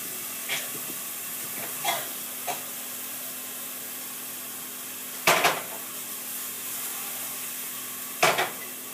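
Onions and tomato fry in a pan with a soft, constant sizzle, broken by a few sharp clicks and scrapes of a utensil stirring, all fairly close.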